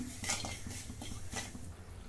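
A spoon stirs sugar dissolving in water in a pan, scraping and clinking against the metal in a steady rhythm of soft strokes, close and fairly quiet.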